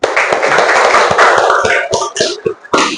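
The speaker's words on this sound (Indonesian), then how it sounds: "tepuk tangan untuk kita semua" A class joins in applause at the close of a lesson, a loud, close burst of many clapping hands that thins out into a few separate, spaced claps.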